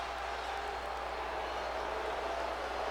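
A WWE 2K20 arena crowd gives a sustained broad murmuring reaction, steady and moderately loud throughout with no distinct cheers or talk standing out.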